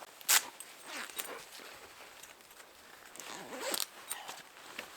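Big heavy-duty zipper on a canvas tent being pulled in quick rasping bursts, the first loud and close, then softer zips and rustling of fabric, with no talking.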